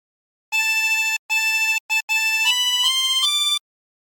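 A harmonic played without bends, running through a phrase of What Shall We Do With the Drunken Sailor: clear sustained reedy notes with short breaks, stepping upward toward the end.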